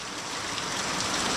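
Heavy rain falls steadily, a dense, loud, continuous wash of drops with no voices over the short stretch.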